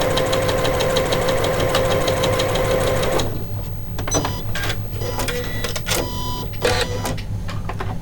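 A Janome sewing machine stitches a pintuck row over cord, a steady, dense mechanical whirr with a constant tone for about three seconds, then stops, leaving faint handling clicks and rustles.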